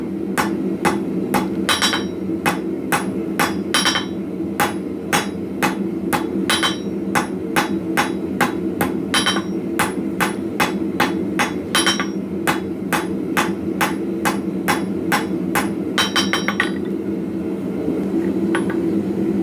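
Rapid, rhythmic blacksmith hammer blows on the tip of a ball end punch being tapered ring out loud and close, dozens of sharp clanging strikes in steady succession before stopping near the end.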